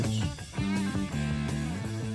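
A song by a rock band from their second studio album, a short stretch of band music with sustained, sliding tones over a full backing, heard alone with no talking.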